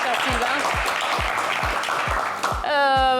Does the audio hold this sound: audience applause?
yes